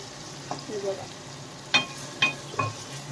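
Tomatoes frying in hot oil for an Aagri-style fish curry, with a soft steady sizzle broken by a few brief stirring scrapes and clinks, close and fairly quiet, no talking.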